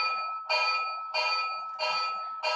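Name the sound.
model locomotive sound module bell ringing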